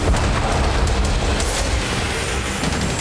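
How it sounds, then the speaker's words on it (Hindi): Explosion during an attack on Crimea, heard as a loud, sustained, rumbling boom that fills the whole three seconds with dense roaring noise and no voices. "जिसमें तेज आवाज के साथ विस्फोट हुआ।"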